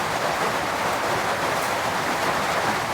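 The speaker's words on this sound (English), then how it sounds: "And the rain's getting very heavy." Heavy rain pours steadily during a rainstorm at a remote cabin, a dense, continuous hiss of close downpour with no voices, unbroken for the whole stretch.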